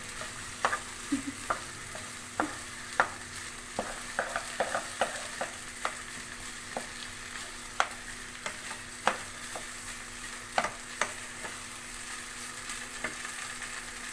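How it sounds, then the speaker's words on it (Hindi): Boiled potatoes sizzling in a pan with repeated spoon scrapes and taps against the metal as they are pressed and mashed, close up, at an uneven steady pace. "इस तरह और आलूओं को भूनते जाएं और चमचे से इसको मज़ीद दबाते जाएं"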